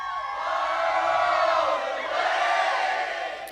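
A live concert crowd cheers and shouts as a song's big chorus finishes. A loud, swelling roar of many voices whoops and yells and rises twice before fading slightly at the end.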